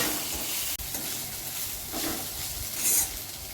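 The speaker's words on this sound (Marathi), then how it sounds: "आपण ठेचलेली भेंडी टाकूया आणि परतून घेऊ" Crushed okra with coriander and salt sautéing in a pan, a steady close sizzle and hiss with scraping stirs, one brief clink near the start and a faint swell near the end.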